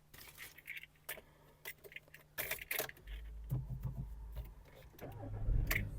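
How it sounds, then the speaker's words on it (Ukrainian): Keys rattle, then a Volkswagen Golf engine cranks and catches, settling into a low idle rumble nearby. "Двигун запускається чудово"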